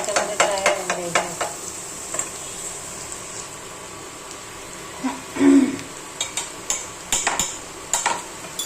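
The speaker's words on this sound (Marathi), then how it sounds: "आता ही रेड चिली ना याच्यामध्ये फ्राय होऊन द्यायची." Red chili fries in oil with onion for peanut chutney, a moderate sizzle punctuated by repeated clinks and scrapes of a spoon against the pan.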